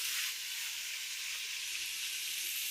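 A pot of Tamil-style fish curry with drumstick pieces boils away, giving a steady, bright hissing bubble with no breaks, fairly close and alone without talk.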